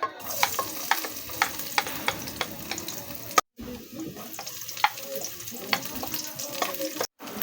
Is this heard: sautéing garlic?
yes